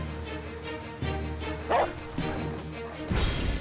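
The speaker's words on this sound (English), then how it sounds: "Meet Smitty, a farm dog with no home." A homeless farm dog barks and yips in a few short bursts at close range, with a whimpering quality between them.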